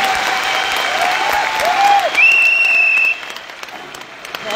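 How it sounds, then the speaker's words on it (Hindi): An audience at a company policy meeting applauds its leadership and management. The dense, loud clapping carries a few tonal sweeps over it and then drops away sharply partway through, leaving quieter scattered sounds. "एक बार तालियां बजा दीजिए"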